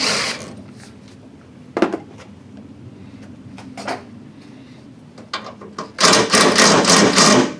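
Bolts being loosened by hand tool from the upper radiator mount of a GMC 2500HD, several short metallic clicks and ratcheting bursts close by, ending in a louder stretch of rapid ratcheting.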